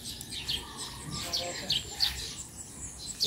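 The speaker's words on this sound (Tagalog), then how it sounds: "Mga huni ng ibon ang maririnig this morning." Morning birds chirp outdoors in a series of short, bright calls that repeat every half second or so, moderately close over a soft, steady background.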